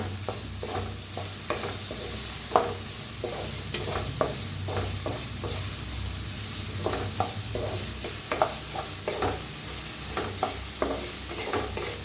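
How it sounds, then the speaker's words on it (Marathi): Sliced onions and green chillies frying in oil, stirred repeatedly: a steady sizzle under regular scraping strokes of a spoon against the pan, close and even. "तेलात टाकूया हिरवी मिरच्या बी चार पाच कापून घेतले त्या ते बी भाजून घेऊया छान असं भाजूया कांदा"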